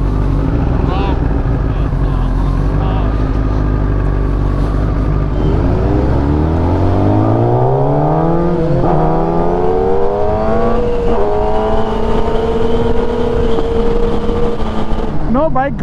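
A Kawasaki Ninja ZX10R motorcycle engine revs loud and close during a group ride, its pitch climbing through repeated rising sweeps with brief dips between gears, amid constant wind rush.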